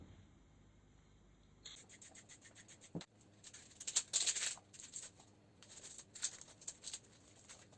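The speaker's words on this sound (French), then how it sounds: "on épluche tout, on prépare" Vegetables, including cabbage, garlic and herbs, are peeled and prepared for braised cabbage, heard as quiet intermittent scraping and rubbing strokes, with a few sharper knocks, in a near, otherwise hushed kitchen.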